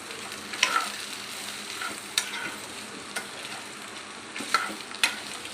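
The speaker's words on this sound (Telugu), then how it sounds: "వేసి బాగా ఫ్రై చేసుకోవాలి" Cumin seeds and washed tamarind fry in a pan with a low, steady sizzle, broken by several sharp spatula scrapes and taps at irregular intervals, close and fairly quiet, with no talking.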